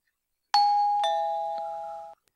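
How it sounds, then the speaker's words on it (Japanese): An intercom doorbell sounds a loud two-tone chime, followed by a softer third note, with the tones ringing clearly and alone before fading out. "俺を起こしたのは突然けたたましく鳴り響いたインターホンの音だった"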